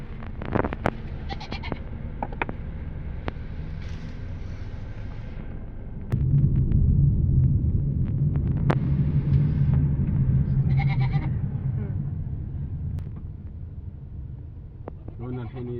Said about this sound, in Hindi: अच्छा ये ना ओमानी बकरे हैं, ये इतने क्यूट मुझे लगे ना